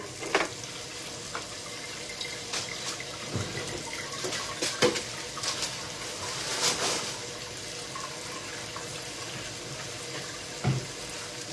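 Dishes being washed under a running kitchen tap, with a steady, faint stream of water and scattered clinks and splashes of crockery throughout, quiet and close.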